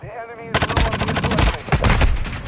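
Loud, close automatic gunfire from Call of Duty Modern Warfare 2, a rapid string of shots in quick bursts after a brief quieter lead-in, with a voice speaking over it.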